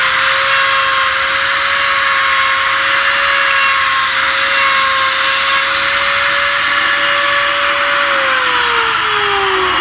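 A loud, steady power drill whines continuously at close range, drilling a lock hole in a sliding door, its pitch holding level and then dropping slightly near the end.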